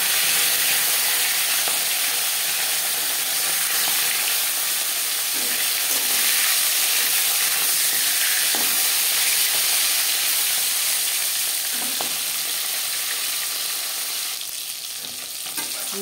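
Tilapia pieces rubbed with salt and turmeric sizzle steadily in hot refined oil, a continuous close frying hiss with occasional pops and spatters throughout, no voices.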